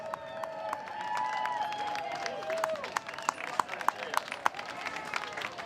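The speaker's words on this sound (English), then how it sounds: "Give him a big cheer" A regatta crowd cheers and claps for the runner-up sailor Jeppe Borch, scattered applause and sharp claps at a distance beneath a voice talking over a loudspeaker.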